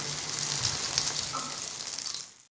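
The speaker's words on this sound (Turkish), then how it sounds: "Aynı bu şekilde hepsini bitene kadar çevirerek her, her iki tarafını güzelce kızartacağım" Oil sizzling and bubbling steadily in a pan as çiğ börek pastries fry, a bright crackling hiss that fades out at the end.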